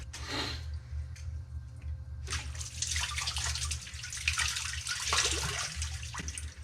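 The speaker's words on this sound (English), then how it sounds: "I'm just inching that pipe upwards with my hand, just fractionally, and that helps release the water pressure in that pipe" Water gushes and splashes from a sump pump discharge pipe as the pipe is eased upward to release pressure, a short burst first, then a longer, louder rushing flow that cuts off near the end, over a low hum.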